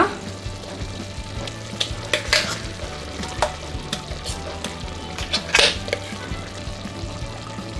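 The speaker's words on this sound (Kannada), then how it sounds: "ನಾವೇನು ಆಲ್ರೆಡಿ ಮಸಾಲೆ ರುಬ್ಕೊಂಡು ಇಟ್ಕೊಂಡಿದ್ರಿ ಅದನ್ನು ಹಾಕೊಳ್ಳೋಣ." Ground masala paste, for a chicken sambar, hits a hot pan and fries with a loud, close sizzle, while repeated scraping stirs and occasional clinks sound over a low steady hum.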